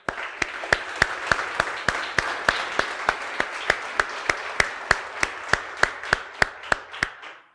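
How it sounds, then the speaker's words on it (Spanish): Rhythmic unison clapping from a Spanish-speaking church congregation, sharp evenly spaced claps about three per second, close and distinct over a faint wash of voices. "¿Cuántos le pueden regalar un aplauso al Señor?"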